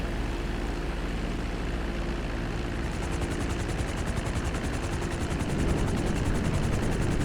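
Boeing 787 airliner taking off in the game GTA V, a steady loud engine roar that swells and gains a rapid pulsing texture as it powers up for departure.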